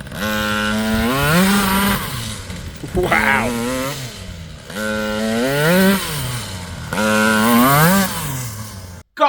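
A Raminator RC monster truck with a Taylor 80cc engine screams loudly, its revs climbing and falling in repeated rising whines with brief dips between, close by; a voice exclaims once.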